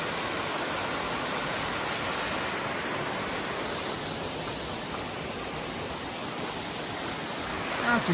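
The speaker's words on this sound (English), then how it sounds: "There's a waterfall." Steady, dense roar of falling water, broad and continuous like a nearby waterfall, with no voices over it.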